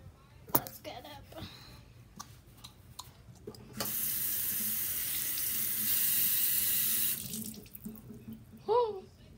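A sink tap runs in a steady rush of water for several seconds, close and fairly loud, between stretches of clattering handling noise and a brief voice near the end.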